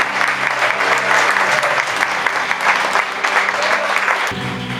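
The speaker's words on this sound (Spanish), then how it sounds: "Denle un aplauso a estas vidas, por favor" A church congregation applauds during a Good Friday crucifixion service, steady full clapping that holds loud and even throughout, with faint voices mixed in near the end.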